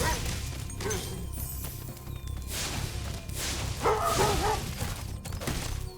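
A dog barks repeatedly in the video game Spyro Reignited, loud and close, mixed with thumping and crashing game sound effects and steady background music.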